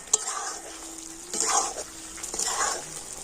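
Sugar syrup with ash gourd pieces boiling for morabba while being stirred, a bubbling hiss with a few scraping strokes of a spoon around the pot and a sharp knock at the start, close and moderate.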